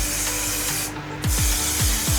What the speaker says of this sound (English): for setting spray, I'm going to use the One Size Until Dawn mattifying spray